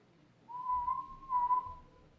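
Someone whistles a long, steady, fairly high tone that wavers and swells slightly, imitating a swinging hammer in a game session; quiet and close with no talk over it.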